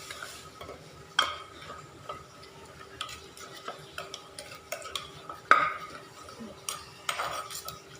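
Som tam, Thai papaya salad, is mixed and pounded in a mortar at a close, quiet spot, giving scattered light clicks and taps of a utensil against the bowl, with a few sharper knocks and no talk.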